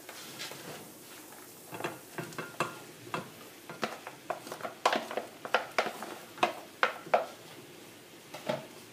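Potatoes, bacon and onions for tartiflette sizzle in a pan, with a run of sharp scraping stir strokes and clinks of the utensil against the pan over a soft frying hiss.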